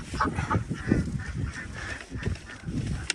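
Ducks honk and quack close by while eating cat food, busy and chattering, with short repeated calls over a few seconds.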